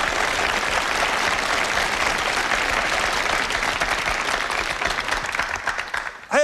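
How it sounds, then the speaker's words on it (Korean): Lecture hall audience applauding at a 2004 history lecture, a dense steady wash of many hands clapping loudly for several seconds before fading, with a brief voice rising at the very end. "맞으면 박수 쳐."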